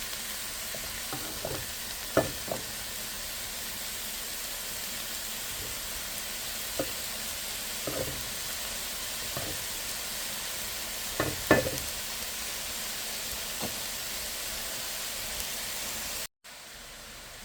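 Frozen mixed vegetables frying in a pan, a continuous soft sizzle with occasional sharper scrapes and clacks as they are stirred, close and steady throughout with no talking.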